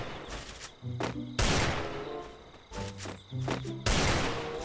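Rapid bursts of automatic gunfire from the Free Fire mobile shooter game, several loud volleys in quick succession with short gaps between, heard alone without talk.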